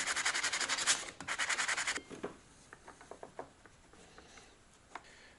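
A metal battery strip on a smart battery is sanded by hand: rapid back-and-forth rubbing strokes for about two seconds, then sparse, quieter scratches and taps, close and with no talking.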